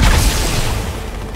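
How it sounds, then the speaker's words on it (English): Grenades go off in a Halo 2 match, a loud, close boom that rumbles low and then slowly fades over about a second. "Just fucking all of them threw grenades at me."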